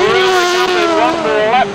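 Grasstrack racing motorcycles at a British Masters meeting scream past close by, a loud sustained engine whine with rising and falling pitch as the bikes sweep around the bend.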